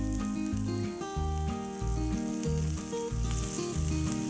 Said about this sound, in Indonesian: Selanjutnya kita tumis bawang merah dan bawang putih.